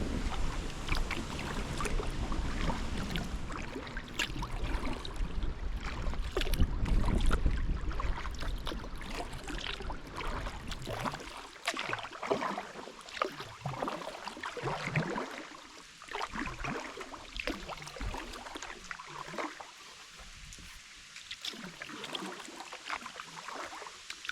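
A kayak moves across Lake Malone in Kentucky past waterfalls and coves, with rhythmic paddle strokes, water splashes and dripping over constant wind and water noise, loud and close, the strokes clearer in the second half.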